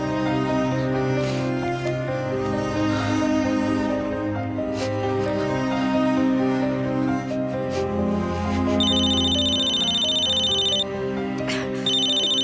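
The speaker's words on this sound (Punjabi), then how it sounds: "ਕੈਨੇਡਾ ਤੋਂ ਫੋਨ" A steady electronic phone ringtone plays loudly over a melodic backing, with a brighter tone pattern joining near the end; no one speaks.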